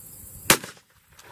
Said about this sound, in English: Shoot that one, Paul.